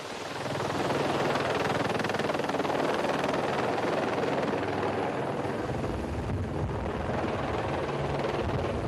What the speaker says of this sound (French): Mafat doit tout à l'hélicoptère.